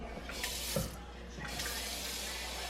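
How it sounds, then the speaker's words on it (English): Tap water running into a metal pot on a kitchen counter, a soft, steady splashing stream with a few brief louder gurgles, fairly quiet and close. "what we're gonna do first is water in this pot"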